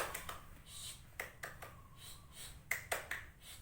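A teacher demonstrates the tepuk diam classroom clapping routine in a quiet room, with a few sharp claps and snaps in separate bursts, some single and some in quick pairs, fairly faint.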